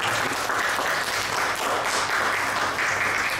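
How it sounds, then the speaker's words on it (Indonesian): An audience at a school event applauds throughout, a dense, continuous patter of clapping hands at steady volume. "Tepuk tangan untuk."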